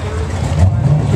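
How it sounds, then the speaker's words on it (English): Cars rolling in to a car show, their engines rumbling nearby under people talking. "Looks like we got some more cars coming in."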